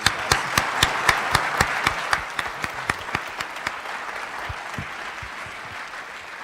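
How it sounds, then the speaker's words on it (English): Audience applause at a high school Veterans Day program, a burst of clapping from a crowd that starts strong with sharp individual claps and gradually thins and fades. "If we could have a round of applause for you guys."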